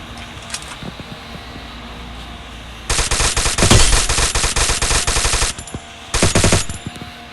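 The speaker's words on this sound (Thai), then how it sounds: "พบเจอเป้าหมาย กราดกระสุนไม่ค่อยโดน" Video game machine gun fire rattles out in a long, dense automatic burst, then a shorter second burst after a brief gap, loud and close over a steady background hum.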